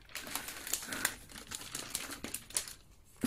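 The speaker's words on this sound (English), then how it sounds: "fold the paper like this" Sheets of paper being folded for a floral balloon wedding decoration, giving soft close crinkles and quick papery taps in an uneven rhythm, fairly quiet and with no talking.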